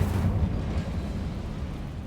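Incendio fire spell cast in Hogwarts Legacy, a loud low whooshing burst of flame right at the start that settles into a steady rumbling crackle.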